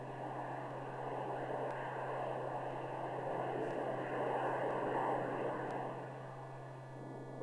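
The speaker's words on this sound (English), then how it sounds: "Hustler number 22 picks up speed." A Hustler delta-wing bomber picks up speed on its takeoff run, giving a steady, loud broadband jet roar with a constant low hum that holds for several seconds and eases slightly near the end.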